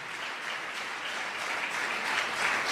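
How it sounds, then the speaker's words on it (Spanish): A church congregation applauds, a steady wash of clapping from many hands at a moderate distance, swelling slightly toward the end with no one speaking over it. "Dale un aplauso al Señor en esta tarde"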